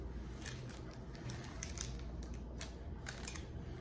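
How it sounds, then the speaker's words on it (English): Knife slicing through a cloud bread pizza, a series of faint, crisp cutting sounds in a quiet kitchen. "I'm gonna cut it like a normal pizza."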